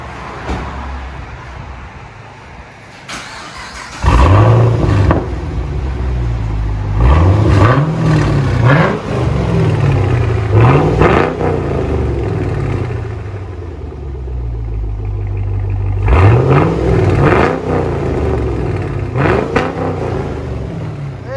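A 2014 Chevy Camaro SS 6.2L LS3 V8 revs repeatedly through a Borla ATAK cat-back dual exhaust, with sharp throttle blips rising and falling over a deep idling rumble.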